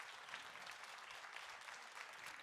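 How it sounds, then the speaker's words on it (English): A conference audience claps for the organising team and volunteers on stage, a steady dense wash of applause heard from a distance at a fairly low level. "keep the applause going, like standing ovation for all of these amazing people"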